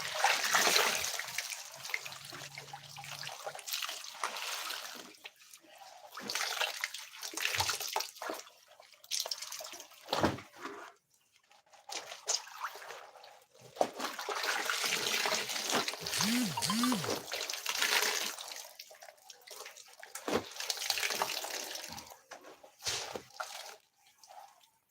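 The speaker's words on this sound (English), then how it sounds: "Run the water inside the room again." Water running from a tap for weekend laundry, splashing and trickling in long bursts with pauses between, fairly close, while people talk at times nearby.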